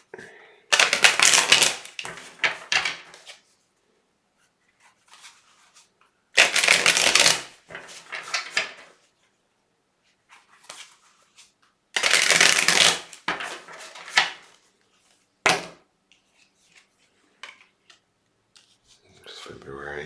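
Cards are shuffled in several quick riffling bursts, close up, with pauses and soft talk between them.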